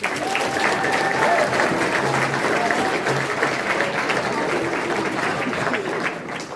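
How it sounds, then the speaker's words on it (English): Sustained applause from an audience at a live-streamed evening event, steady and dense for several seconds with a few scattered voices and cheers mixed in. "so a huge round of applause for Colson."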